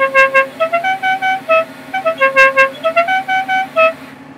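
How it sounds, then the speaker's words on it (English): The General Lee's air horn, fed by a tiny compressor through five trumpets, blares the first twelve notes of Dixie as a loud, clear run of separate honking notes rising and falling in a melody. "which plays the first 12 notes of the song Dixie. This special horn runs on air with a tiny compressor and 5 trumpets"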